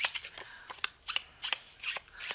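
Small, close snips and scraping rasps come in a quick, uneven rhythm as the white cut edge is trimmed from ink-edged paper for a handmade cinch journal, with no voices.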